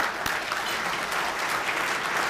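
An audience at a State of the County address gives steady, dense applause that holds at an even level throughout, with no voices over it.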